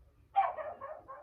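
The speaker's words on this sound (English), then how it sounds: "Really sorry about the dog in the back." A dog barks once in the background, followed by a couple of softer, shorter barks and yips, moderately distant and heard alone without speech.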